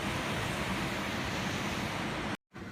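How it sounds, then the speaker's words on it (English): Ocean surf rolls in near Newcastle Baths, a steady broadband wash of waves with wind, loud and continuous before a brief drop-out near the end. "You can probably hear the sounds of the ocean."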